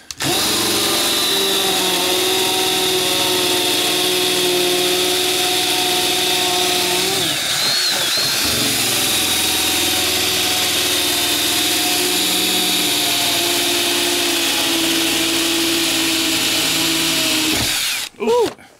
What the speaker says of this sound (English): Drilling the wood too fast